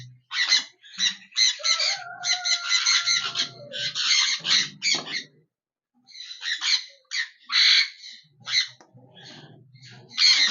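Sun conure parrots, about one and a half to two years old, squawk harshly in repeated bursts while attacking, loud and close, with short pauses between flurries.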